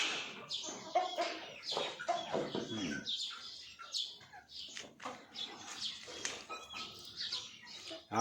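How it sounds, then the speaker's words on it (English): Flock of chickens sunning themselves on a sunny day at a homestead, clucking and chattering in quiet overlapping bursts at moderate distance, with faint chirps mixed in and no talking. "It's sunny today, the chickens are basking in the sun."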